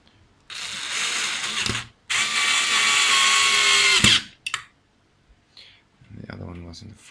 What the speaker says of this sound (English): Screwdriver ready.